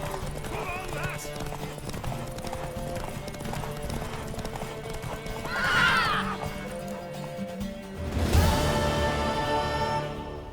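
Horse hooves clip-clop through a race in The Witcher 3, with a whinny rising in the middle and a louder neigh near the end, all over steady game music and ambience.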